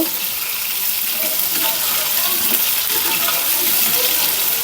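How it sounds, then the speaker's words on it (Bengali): Steady, loud sizzle and crackle of potatoes frying in oil with turmeric and salt, a dense hiss continuing throughout with occasional scraping clinks. "এখানে আলুগুলো ভেজে নিচ্ছি একটু হলুদ আর লবণ দিয়ে লাল লাল করে ভেজে নেব"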